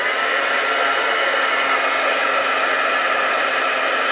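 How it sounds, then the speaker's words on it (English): A heat tool blows steadily and loudly at close range, melting embossing powder glue with an even, unbroken whir of hot air. "I'm going to take my heat tool and I'm going to heat it."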